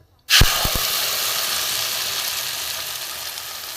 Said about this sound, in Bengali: কড়া গরম হয়ে গেছে সর্ষের তেল দিয়ে দিয়েছি আমি এই পেস্টটা এতে দিয়ে দেবো